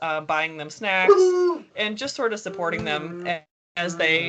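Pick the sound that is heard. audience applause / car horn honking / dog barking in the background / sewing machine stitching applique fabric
dog barking in the background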